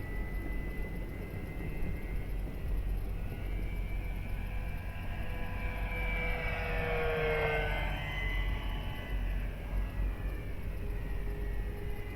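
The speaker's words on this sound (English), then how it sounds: "What a big, beautiful plane." An XFly Twin Otter 1800mm twin-engine RC model plane drones overhead, its propeller whine rising and sweeping in pitch as it passes fairly close, then fading slightly against steady background noise.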